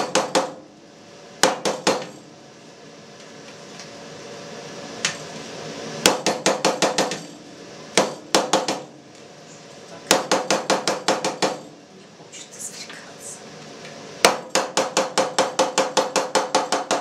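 Tapping on a cheese mould to release a freshly pressed Monterey Jack, heard as loud, close bursts of rapid hard knocks in short rhythmic runs separated by brief pauses, with no voices.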